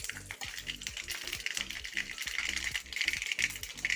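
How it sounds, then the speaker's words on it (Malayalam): Mustard seeds spluttering in two tablespoons of hot coconut oil in a pan on the stove, a dense run of close crackles and sizzling pops in recurring bursts that continue steadily throughout. "ഒരു പാത്രം അടുപ്പത്ത് വെച്ചു 2 ടേബിൾ സ്പൂൺ വെളിച്ചെണ്ണ ഒഴിച്ച് ചൂടായി കടുക് ഇട്ട് കൊടുത്തിട്ടുണ്ട്"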